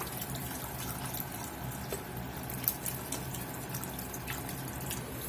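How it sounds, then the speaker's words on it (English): Vegetable broth pours steadily into a gumbo roux for Gumbo Z'Herbs, a continuous close liquid splashing and trickling with small drips, fairly even throughout with no talking. "We're going to get the vegetable broth in."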